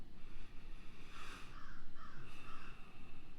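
A crow calling outdoors, several faint, repeated caws in an uneven rhythm, heard from some distance over a steady background hiss.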